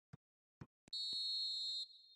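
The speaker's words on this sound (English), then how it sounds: "And there is the half-time whistle" A referee's half-time whistle at a football match blows one long, loud, steady shrill blast, preceded by a few short taps, and fades to a faint ring afterward.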